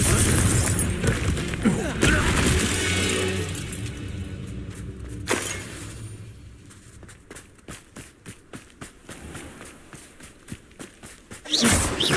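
A Confringo fire spell in Hogwarts Legacy bursts in roaring, shattering explosions, one long blast at the start and sharp bangs later, with quick running footsteps and thuds in between.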